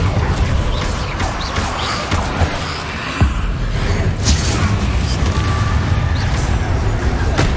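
A Depulso force spell is cast in the video game Hogwarts Legacy, its blasts and thuds buried in a loud, dense, continuous wash of game effects.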